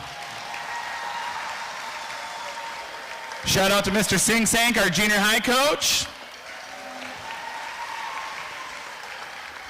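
Big round of applause from the crowd at a cross country team sendoff, a loud burst lasting a couple of seconds in the middle, with someone speaking over a microphone before and after it.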